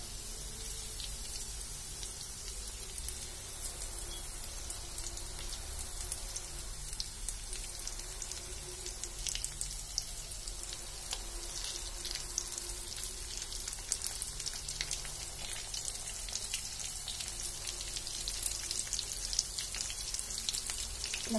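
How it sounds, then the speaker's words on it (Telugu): Stuffed bitter gourd frying in oil, giving a steady, fine crackling sizzle with scattered sharper pops that continues evenly at moderate volume and has no talk over it. "కాబట్టి ఆయిల్లో మనం ఇట్లా ఫ్రై చేసుకున్నప్పుడు మంచిగా ఫ్రై అవుతుంది అనమాట."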